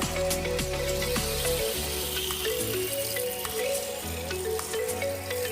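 Water splashing and running steadily over a Honda RS 125 motorcycle as it is washed, a close, continuous hiss and spatter with a low rumble underneath, no voices.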